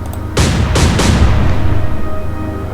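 Naval guns firing a salvo in the naval warfare game Atlantic Fleet: three heavy booming shots in quick succession, loud and close, followed by a long rumbling roll that fades slowly.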